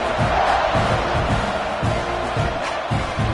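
Stadium crowd at a college football video game, Tennessee vs Texas A&M, buzzing after a score: a steady, loud roar of many voices with swells of cheering, continuous throughout with no clear speech.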